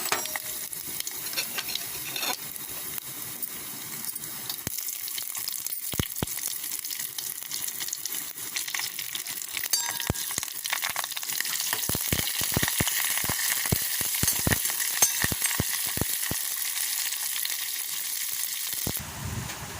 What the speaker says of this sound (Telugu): ఆయిల్ కాగేసింది, పోపు గింజలు వేసుకుందాం.